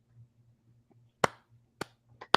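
Four sharp, separate hand claps ring out at uneven intervals over a quiet low hum, each one close, crisp and brief.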